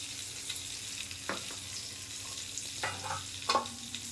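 Cauliflower and potato pieces fry in hot oil with turmeric and ginger, giving a soft, steady sizzle broken by occasional spoon scrapes and clinks against the pot.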